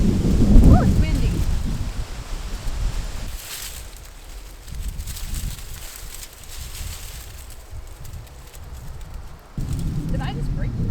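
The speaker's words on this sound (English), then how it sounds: "Oh, it's windy." Gusty autumn wind sweeps through a garden during fall cleanup, buffeting and rumbling with rustling bursts that swell and ease, loud and close with no clear speech.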